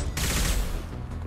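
Sustained automatic gunfire bursts through a firefight in the video game Mass Effect 2, loud and dense for the whole moment with no speech over it.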